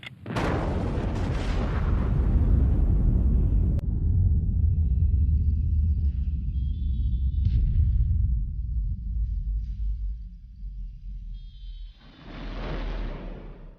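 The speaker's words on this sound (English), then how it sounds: "5 radio control circuits will set off the blast in this prelude to push-button warfare." Radio-detonated underwater nuclear test blast: a massive low boom erupts at once and rolls into a long, heavy rumble that slowly fades, with a second surge of roaring noise near the end, no talking.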